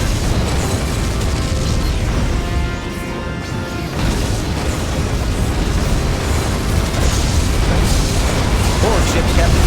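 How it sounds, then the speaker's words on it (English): Star Trek Legacy space battle with dense booming blasts and crashing impacts filling the whole stretch, loud and continuous, with a short tonal hum in the middle as photon torpedoes fire. "Photon torpedoes ready."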